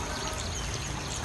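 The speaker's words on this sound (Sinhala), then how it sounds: "එතන ඇල තියෙනවා." Water from a small stream in hilly countryside rushes and flows in a steady, close-up wash that goes on throughout.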